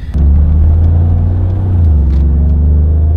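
A Mercedes G-Class 4x4 Squared pulls away, its engine giving a loud, close, deep rumble that rises as it accelerates and holds steady, with no talking.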